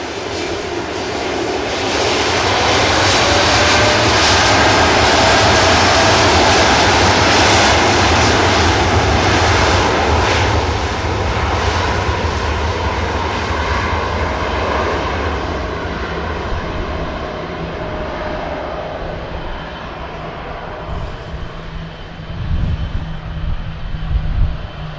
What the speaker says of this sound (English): Sounds like we've got an A400 going over the top or something as well. Something military.